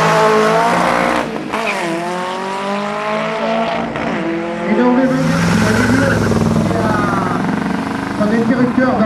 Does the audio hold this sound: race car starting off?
yes